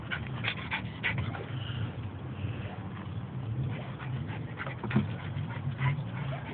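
A dog pants steadily and breathes heavily up close, with soft whimpers and small whines mixed into the rhythm for several seconds.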